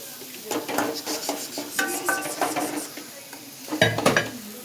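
Onion and chilli frying in a pan are stirred vigorously, a spoon scraping and clinking against the metal in uneven strokes over a soft steady sizzle, close up with no talking.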